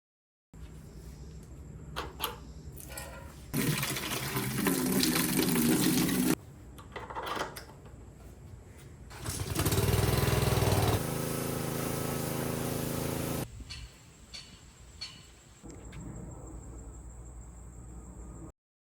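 A pressure washer sprays water over a dusty 1995 Hardbody truck in two loud, sustained hissing bursts, separated and followed by a quieter running hum with occasional clunks.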